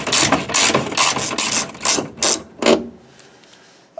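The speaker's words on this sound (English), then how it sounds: "I'm going to start by removing this bolt here." A hand ratchet loosening a T45 Torx bolt on a GMC vehicle, with rapid clicking in several short bursts of a few strokes each, close and loud, then a brief quiet.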